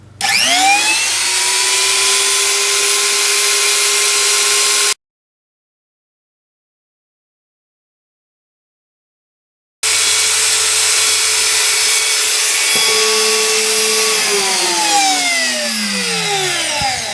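A Makita angle grinder screams at full speed, a loud steady high whine that cuts out for several seconds, then spins back up and winds down with a falling pitch near the end.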